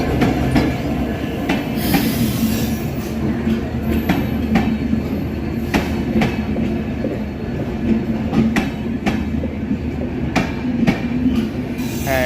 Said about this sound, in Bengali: এই ট্রেনটা করে খুব সম্ভবত আমরা কলকাতার উদ্দেশ্যে যাব। বাংলাদেশের লোকোমোটিভ লাগানো আছে।